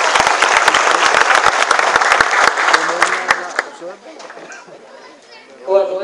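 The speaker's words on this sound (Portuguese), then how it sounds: "Uma salva de palmas nessa mulher." Applause from the audience at a meeting with a senator, with loud crowd clapping for about three and a half seconds before it fades into chatter and a voice that begins speaking.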